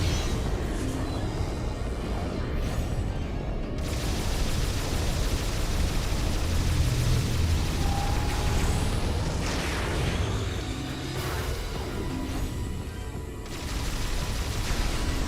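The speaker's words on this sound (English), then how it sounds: "My ground-based explosions aren't very widespread" Ground-based explosions from the video game Metroid Prime 3: Corruption, a dense, continuous rumbling barrage of blasts and booms that stays loud and steady throughout, with no talking.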